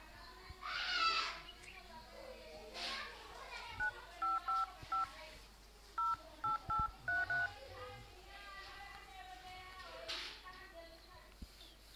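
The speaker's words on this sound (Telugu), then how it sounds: "ఫోన్ చేస్తాను." Telephone keypad dialing tones, a quick run of short beeps in two bursts, clear and close, with people talking and some background noise around them in a village setting.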